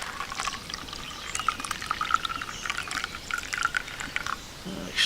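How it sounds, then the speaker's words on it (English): Pine needle tea poured from a pot through a coffee filter, a steady close splashing trickle of liquid that runs unbroken for several seconds, with no talk over it. "Let's pour it here. I've got a coffee filter."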